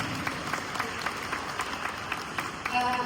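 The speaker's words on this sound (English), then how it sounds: "So please give them a round of applause." A crowd at a Ukrainian Independence Day celebration in the Philippines applauds in a steady, dense wash of clapping heard from within the room, moderately loud and sustained throughout.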